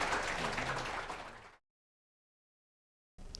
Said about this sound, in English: just a warm applause for them if you still have some energy in your hands